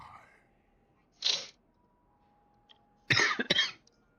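A wounded character in a sci-fi video game coughs in two harsh bursts, a single cough followed by a louder cluster of rapid hacking coughs, close and clear over a quiet low hum.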